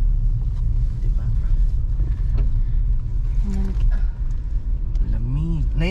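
A car rumbles steadily from inside the cabin while driving, a loud low-end drone under people talking.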